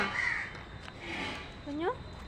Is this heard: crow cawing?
yes